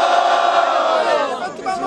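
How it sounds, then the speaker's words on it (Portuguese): At a student rap battle in Guarulhos, São Paulo, a dense crowd roars and shouts continuously at high volume, the cheering staying steady before thinning slightly toward the end. "Barulhos pra quem gostou das rimas de Muhan."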